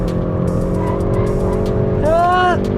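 A Hyundai i30 N hot hatch engine droning steadily under full throttle, with a brief rising whine near the end, loud and close, with no talking.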